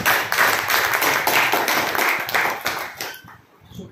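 An audience claps to welcome a guest at an event, a dense, lively burst of many hands with crisp individual claps near the front, holding steady before fading quickly to near silence at the end.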